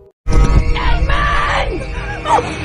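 A woman's loud, anguished scream in a thriller film, a single long wavering cry breaking out of silence and trailing into sobbing wails, close and intense.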